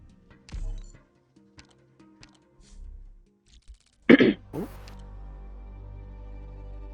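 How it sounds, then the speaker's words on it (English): A man clears his throat once, a short rough rasp close to the mic, followed by a softer second catch, set against faint ticking and quiet room noise. "the thing that I do where I clear my throat all the time"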